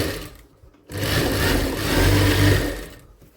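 A sewing machine runs a quarter-inch seam on a blouse in a single close, loud burst of steady motor hum and needle chatter lasting about two seconds, with no voices.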